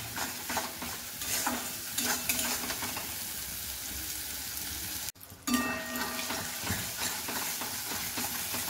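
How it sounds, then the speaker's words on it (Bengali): Spice paste with red chilli powder stirred and fried in a pan for a prawn and fig curry, a steady close sizzle under continuous scraping strokes, briefly cut by a short dropout midway. "মশলাটাকে ভালো করে কষিয়ে নিতে হবে।"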